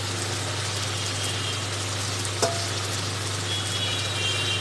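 Spiced oil sizzles steadily in a pan as pomfret fish pieces go in, a loud continuous frying hiss with a low hum underneath and one brief clunk partway through.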